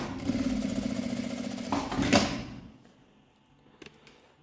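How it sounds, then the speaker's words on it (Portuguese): A sewing machine runs steadily through a straight seam on a compact wallet, a close, continuous mechanical whir for about two seconds before stopping, followed by quiet with a few faint handling clicks. "Eu vou passar uma costurinha reta aqui embaixo."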